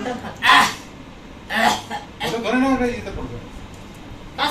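A one-year-old child gives a few short, separate coughs when asked, mixed with brief vocal sounds and an adult voice in a quiet room.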